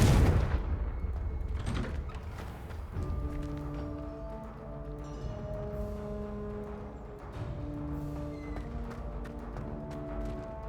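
Fire spell blasts and impact booms from Hogwarts Legacy gameplay, a loud opening burst followed by repeated thumping hits under sustained tonal magical music.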